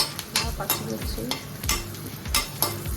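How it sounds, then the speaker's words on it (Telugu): Green chillies with turmeric frying in a pan, a steady oily sizzle broken by rhythmic scraping stirs of a spoon, close and continuous. "బాగా వేగాలి."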